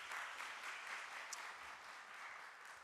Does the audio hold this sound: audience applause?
yes